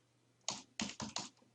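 Typing on a computer keyboard, four distinct bursts of key clicks in an irregular rhythm, close and fairly quiet, with no talking.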